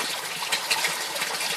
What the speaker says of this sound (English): an avalanche of water